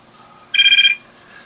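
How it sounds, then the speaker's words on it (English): Mobile phone rings with one short electronic trill burst lasting under half a second, clear and near in an otherwise quiet room. "that's my phone."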